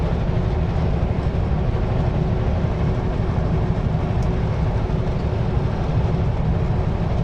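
Continuous low rumbling of a train running alongside Yellowhead Highway 16 near Smithers, British Columbia, steady and fairly loud, with a faint rhythmic rattle of wheels and no talking.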